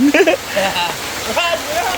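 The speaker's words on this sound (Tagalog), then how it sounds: "lakas ng ulan" Heavy rain pours down in a steady wash of hiss, with several people talking and laughing close by over the downpour.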